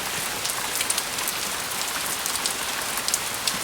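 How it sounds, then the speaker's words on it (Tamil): Heavy rain pours down steadily in a cartoon sound effect, a dense, loud, unbroken hiss of drops drumming on surfaces, with no voices or thunder. "மழை நல்லா கொட்டுன்னு கொட்டி தீக்கவும் ஆரம்பிச்சது"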